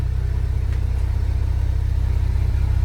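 A CFMOTO U10 PRO utility vehicle engine idles close by with a steady, even low pulsing hum, continuous and unchanging as the machine is shifted into reverse.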